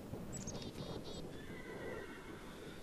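A horse in the Minecraft video game gives a loud whinny over a dense, continuous background of game noise, with clip-clopping hooves.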